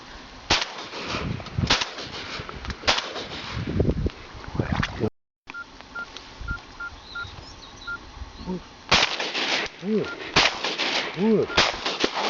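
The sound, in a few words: shotgun shots while duck hunting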